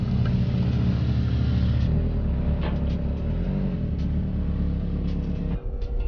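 A Saab 9-5 Aero car's engine rumbles steadily as it is driven slowly up onto a trailer, a close, low, even drone with slight throttle changes and no talking.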